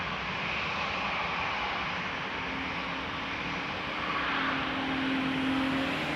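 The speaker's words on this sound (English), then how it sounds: "I see a 777 from Emirates on the move." Emirates Boeing 777 taxiing at Amsterdam Schiphol, a steady broadband jet engine roar with a low whine, growing slightly louder toward the end, heard alone.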